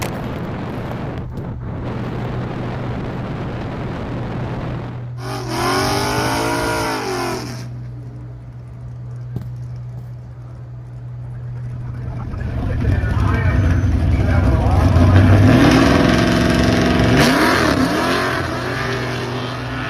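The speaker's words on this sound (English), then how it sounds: "So you could hear the car struggle on the launch there." Drag racing car at the Sick Summer event, its engine straining and bogging on launch, a loud rising roar that builds and swells over the last several seconds, with people talking over a steady background hum.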